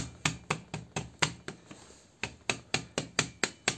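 A rubber mallet strikes a Nissan Tiida alternator again and again to loosen it, sharp close knocks in two uneven bursts separated by a short pause, with no talk.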